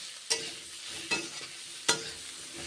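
Vegetables fry in a pan with salt and turmeric, giving a soft, steady sizzle broken by three sharp scraping stirs of a spoon.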